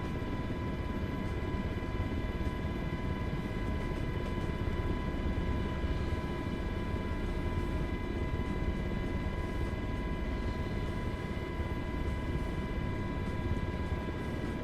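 An MH-60 helicopter in a flight simulator keeps up a continuous, steady rotor and turbine drone at an even level, with a whine and no other sounds.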